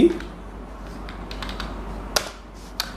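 Computer keyboard keys tapped during data entry in Tally Prime accounting software, a sparse run of light clicks with a few sharper keystrokes, close and alone.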